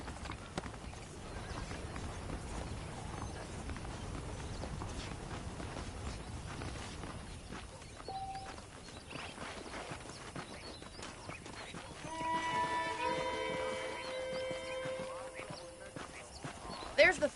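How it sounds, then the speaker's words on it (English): Horse hooves clip-clop steadily at a ride in the Red Dead Redemption video game, with a neigh or whinny among them and people talking over the top, under a game soundscape. "let's see if you can still ride a horse"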